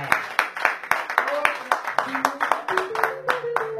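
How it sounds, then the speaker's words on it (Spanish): Audience at a tango and poetry evening at Mesón Carlos Gardel gives María a round of applause, sparse rhythmic claps from a small crowd, close and clear, with a background tone sustaining under them. "¡Fuerte el aplauso para María!"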